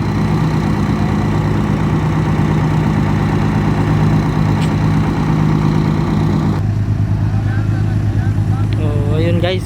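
A stalled machine's engine idles steadily and loudly throughout, with a constant low rumble and vibration while people talk over it in the background.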